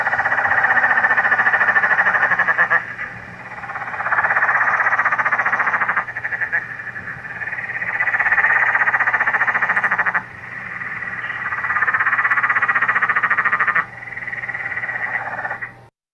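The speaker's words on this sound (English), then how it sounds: "my parents' tree frog started to call" A tree frog in a backyard calls loudly and close, in long rattling trains a few seconds each, separated by brief pauses, with no other sound.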